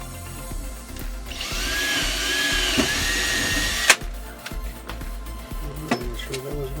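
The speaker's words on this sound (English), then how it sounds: "now I'm going to drill through it" A drill bores through a board as a loud whirring buzz for about three seconds, ending in a sharp knock, followed by lighter handling clatter.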